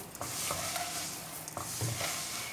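Handmade vermicelli roasts dry in a pan, with repeated scraping stirs over a steady light sizzle, close and moderately loud.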